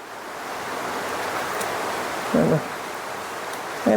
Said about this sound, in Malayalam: ഇവിടെ ഭയങ്കര കാറ്റും മഴയാട്ടോ